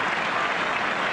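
Football crowd applauding steadily at the 1987 Ireland vs Brazil friendly after a near-post attempt from a corner, a broad continuous wash of clapping from a large stadium audience.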